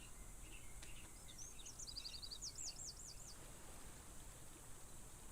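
Birds chirping in the background, a few brief trilling and rapid repeated calls that come and go, faint beneath a steady hiss.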